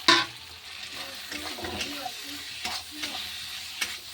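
Cauliflower fries in a pan for an egg curry, giving a close, steady sizzle broken by repeated scraping stirs from a spoon against the metal.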